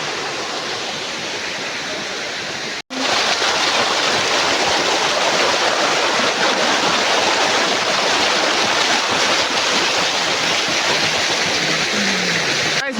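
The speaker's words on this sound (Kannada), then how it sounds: "ನೋಡಿ ಗಾಯ್ಸ್, ಹೇಗೆ ಉಂಟು ಅಂತ ನಮ್ಮ ತೋಡು." A local stream called a thodu, running full with plenty of water, rushes loud and steady and close by, a continuous broadband wash that breaks off briefly once near the start before resuming unbroken.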